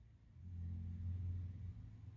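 A Massey GC1723E compact tractor carrying a ladder on pallet forks, its engine a low steady rumble that swells slightly and holds, fairly distant and alone without talk.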